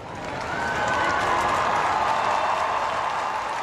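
Crowd of well-wishers applauding the Pope outside a hospital in Rome, a steady dense wash of clapping that swells in the first half-second and holds, distant and continuous, with faint cheering mixed in.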